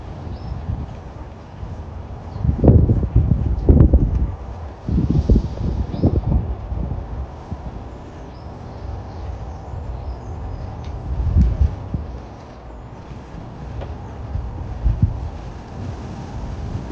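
Gusty wind buffets the microphone at an outdoor allotment garden in low rumbling bursts, loudest in the first few seconds and returning in fainter gusts later, with no voices.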